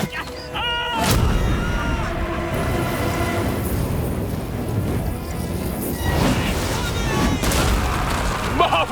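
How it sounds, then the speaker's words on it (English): Flaming incendiary darts from Roman catapultae burst in a Total War: Rome 2 battle, a sharp boom opening a sustained roaring, crackling wash of explosions and fire that stays loud and dense for several seconds. "Catapultae could be used with incendiary ammunition."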